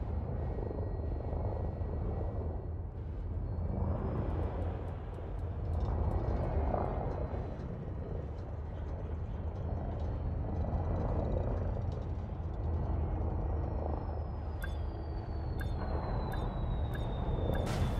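Lakon spaceship in a space video game coming in to land, its aft thrusters roaring as a steady, loud low rumble with whining engine tones, ending in a string of sharp electronic beeps.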